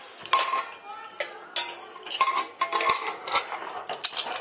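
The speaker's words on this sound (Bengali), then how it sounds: "কুকারের ঢাকনাটা আমি খুলে নিয়েছি।" A metal pressure cooker lid is handled in a home kitchen while cooking jackfruit: a series of sharp clanks and clinks arrives in irregular bursts, close and fairly loud, with quiet gaps between them.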